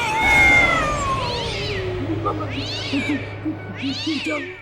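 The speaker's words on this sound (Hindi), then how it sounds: "एक बिल्ली हम पर कूद पड़ी सर।" A cat meows several times in drawn-out, rising and falling cries, fairly close, over a low steady hum.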